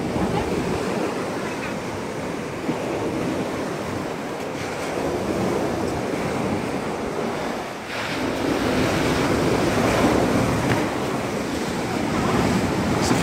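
Waves breaking and washing on Boolly Beach in Cornwall, a continuous surf roar with wind buffeting the microphone, steady and close throughout, with no clear talk.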